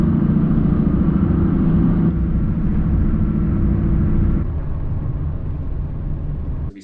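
Interior drone of a 2015-2020 Honda Fit (GK5) driving on new tires after 36 square feet of sound deadening mat was fitted: a steady low road and engine rumble that eases slightly partway through, then cuts off at the end.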